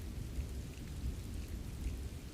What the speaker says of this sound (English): The rain continues to fall.